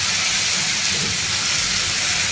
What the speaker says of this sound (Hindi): तेज फ्लेम पर शिमला मिर्च को कुक कर ले रही हूँ 1 मिनट तक।